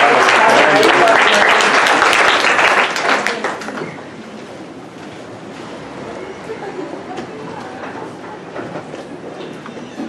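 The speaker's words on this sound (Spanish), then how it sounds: "Vamos a darles un aplauso," Audience applause at a conference on thanatology, a loud, dense burst of clapping for the first three seconds that then fades to low room noise.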